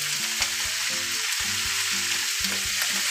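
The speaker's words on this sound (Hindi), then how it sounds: "इसको चला देते हैं जिससे ये मिक्स हो जाए नमक अच्छी तरीके से इसके अंदर।" Potato and cabbage sabzi frying in a pan, a dense, even sizzle under a low, rhythmic tonal hum, with soft stirring beneath it throughout.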